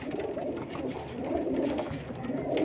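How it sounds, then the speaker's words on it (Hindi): Highflyer pigeons of Teddy cross and Kamgar cross breeds coo steadily in a Lahore loft, a close, continuous chorus of overlapping throaty calls with no voices. "इनमें मोस्टली कबूतर जो हैं टैडी क्रॉस के और कमगर क्रॉस के हैं"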